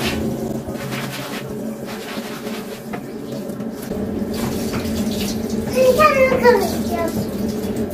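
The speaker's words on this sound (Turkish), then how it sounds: "Biraz sıcak suyu açtım ki bunun üzerindeki yağ gitsin" Hot water pours steadily from a household tap into a sink to rinse off grease, a continuous close splashing flow with people talking over it and a voice nearby.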